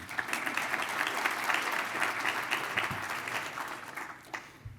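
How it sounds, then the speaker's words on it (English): Steady applause from a conference keynote audience fills the whole stretch, dense and even, tapering slightly near the end. "let's just give a round of applause for everybody in the room"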